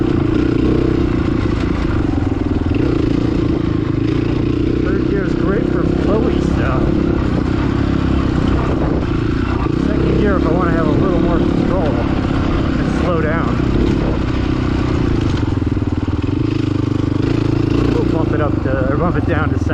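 An FSE300R motorcycle rides a flowy trail, its engine droning steadily throughout with rising and falling revs as it shifts through the gears, along with clatter from the bumpy terrain and a voice talking over it.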